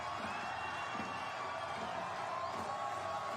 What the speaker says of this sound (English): Some of the crowd can't contain themselves.